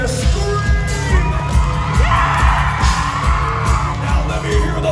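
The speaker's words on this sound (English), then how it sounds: "I want to hear the girls in here scream." Girls in a concert crowd at a show in Reading, Pennsylvania, screaming together, a dense high-pitched wash of shrieks and whoops over a droning low rumble from the stage, loud and sustained throughout.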